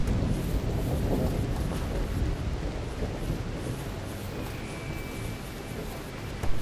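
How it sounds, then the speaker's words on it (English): Steady broadband rain hiss from a RimWorld storm dousing a burning fire, loud and continuous throughout with a low rumble underneath and no talk. "Rain is putting it out."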